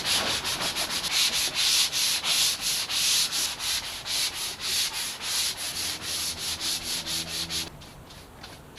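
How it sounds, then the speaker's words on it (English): Rhythmic back-and-forth scraping of sandpaper rubbed by hand over tung-oiled wood on a wooden boat's cockpit, steady strokes close up, ending with a brief pause. "And now what I'm sanding now, of course, is the tongue oil"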